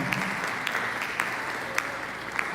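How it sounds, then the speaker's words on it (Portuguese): A church congregation claps together in sustained, fairly distant applause after worship praise, the dense patter steady throughout with a few sharper individual claps standing out. "Você pode dar uma salva de palmas a esse Deus?"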